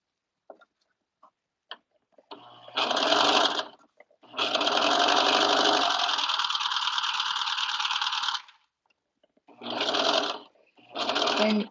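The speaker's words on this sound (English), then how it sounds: "I'm gonna turn on the knife. I'm gonna serge it one more time." A serger overlocker with its knife on, stitching and trimming a fabric edge: several loud, close bursts of rapid mechanical whirring, one long run of about four seconds, separated by pauses with a few small clicks.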